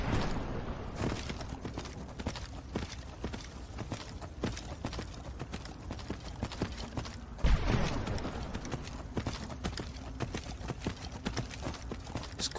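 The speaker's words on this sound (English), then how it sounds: "See how fast this horse can be." Horse hooves clip-clop at a fast galloping pace, steady and continuous, in the video game Skyrim, with a faint voice occasionally audible under the hoofbeats.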